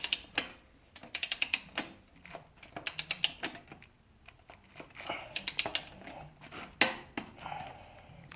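Torque wrench tightening bolts on a 2009 KTM 200 motorcycle during a wheel bearing and fork seal job, with quick bursts of close, crisp ratcheting clicks in irregular runs separated by short pauses.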